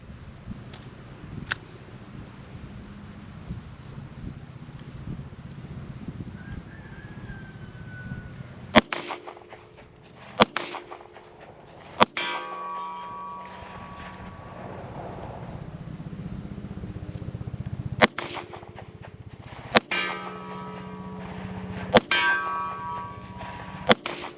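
Colt All-American 2000 pistol fired at a shooting range, several sharp single shots spaced irregularly over a steady background hum, with ringing metallic decay after each report.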